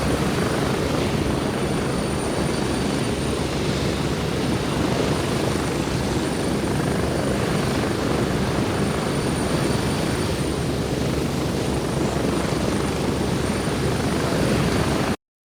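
A video game helicopter's rotor thrums steadily and loudly throughout, a constant chopping drone with engine whine and no voices, from Gray Zone Warfare.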